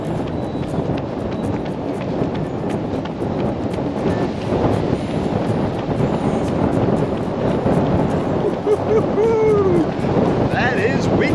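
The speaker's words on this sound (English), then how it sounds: "That is windy." Strong wind buffets the microphone during an outdoor 5K training run, a steady roaring rumble that goes on without a break for the whole stretch.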